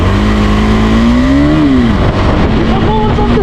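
KTM 390 Adventure motorcycle launching hard, its single-cylinder engine note climbing steadily in pitch through about a second and a half, dropping at a shift, then pulling again, loud and close with heavy wind rush throughout.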